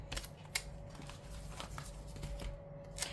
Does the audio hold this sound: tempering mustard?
no